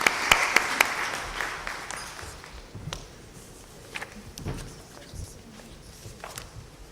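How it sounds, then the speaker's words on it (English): Applause from a conference audience at an HR conclave, a burst of claps that is loudest at the start and then thins to scattered claps and taps, with faint voices underneath. "Let's give a big round of applause."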